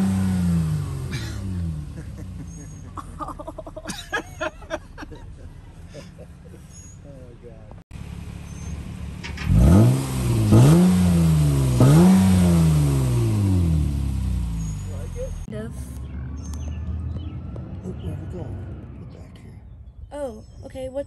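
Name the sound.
car exhaust revving with one electronic cutout bypassing a muffler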